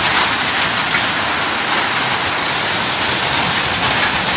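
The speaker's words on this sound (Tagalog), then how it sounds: "Magsahod lang ko mga tubig ulan ba para makatipid sa tubig" Heavy rain pours continuously, a dense, loud hiss of drops hitting a surface, with no voices.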